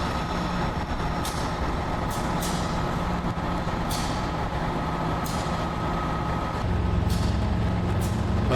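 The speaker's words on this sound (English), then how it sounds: "A flat car train." A freight train of flat cars rolls past on the far side, a steady, continuous low rumble of wheels and engines with brief hissing squeals overhead, growing slightly heavier near the end.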